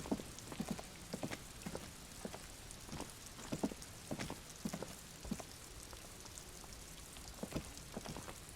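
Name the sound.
rain falling in the video game Disco Elysium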